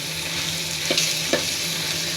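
Small eels fry in a pan with a continuous close sizzle, broken by a couple of sharper spits or stirring clicks, heard alone without talk.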